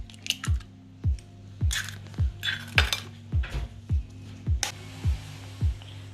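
Eggs, milk and turmeric being beaten in a bowl for a green herb omelette make a rhythmic run of about a dozen sharp, close utensil clinks against the bowl, with no voices.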